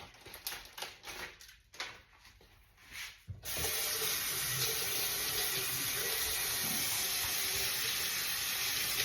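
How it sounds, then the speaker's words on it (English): Tap water runs steadily into a kitchen sink as sausage for a seafood boil is rinsed, a broad continuous rush that starts abruptly a few seconds in after quieter clinking and handling sounds. "Washing off the sausage."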